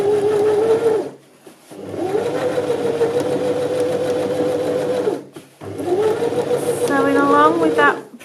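A sewing machine stitches fabric at a half-inch seam allowance for gathering, running in three steady whirring bursts with short pauses between them. It is close and fairly loud, and a voice talks faintly under it.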